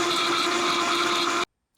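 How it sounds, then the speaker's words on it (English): A countertop blender runs steadily on frozen berries, a loud continuous motor whir with a grinding edge that holds level for about a second and a half, then cuts off abruptly to silence. "Just gonna put it in the blender and blend away."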